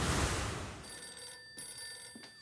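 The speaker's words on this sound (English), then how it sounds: "I'd better get that phone." An old-style telephone bell rings in an office, a loud burst followed by bright, sustained ringing tones with short gaps, heard alone.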